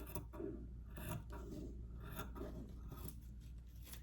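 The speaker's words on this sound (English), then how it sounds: "We want to cut it slowly and deliberately in straight edge." Scissors work slowly through fabric for an angel craft, giving soft close snips and rasping cuts spaced irregularly across a quiet background.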